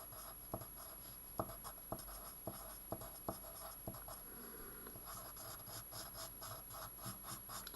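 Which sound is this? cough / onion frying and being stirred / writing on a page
writing on a page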